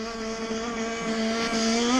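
A rebuilt Zenoah marine engine on a boat called the Screw Ball, on a test run: a steady, close buzzing drone that climbs in pitch as the engine revs up toward the end.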